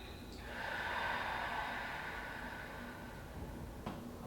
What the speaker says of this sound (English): Breathe in through your nose and exhale.